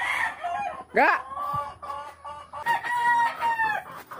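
A rooster crows once in a rising, stuttering call near the microphone, followed by clucking fowl calls, with a person speaking briefly over the sounds.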